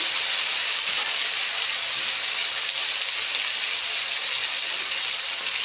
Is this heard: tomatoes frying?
yes